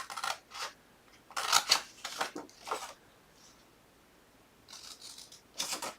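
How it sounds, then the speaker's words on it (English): Scissors or a paper trimmer snipping through paper while making a small teabag box, several short crisp cuts in quick bursts with quiet pauses between, close and fairly faint. "You can use your paper trimmer or your scissors and just cut it off."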